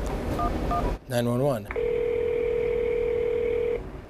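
A few short phone keypad beeps dialing 911 inside a 911 center, then a voice speaks briefly, followed by a long steady electronic tone like a phone line signal.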